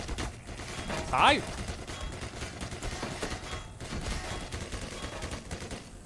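Rapid bursts of gunfire crackle through a Black Mesa firefight, a fairly faint, continuous rattle of shots with a short shouted word from a man partway through.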